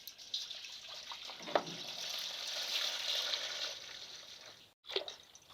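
Maple syrup swished around in a metal pre-boiler pan gives a soft, close liquid slosh that rises and falls over a few seconds, with a brief break near the end.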